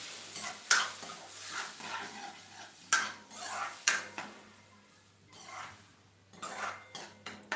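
Pressure-cooked dal is mixed into a pot for Punjabi-style dal tadka, with repeated metal spoon knocks and scrapes against the vessel and soft wet stirring between them, close and intermittent.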